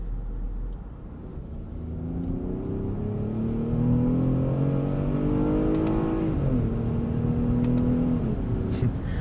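A 2022 Lexus RX 350 F Sport SUV accelerates hard from a standstill. The engine note climbs steadily, dips briefly at a gear change, then pulls on. It sounds close and loud, with no talking over it.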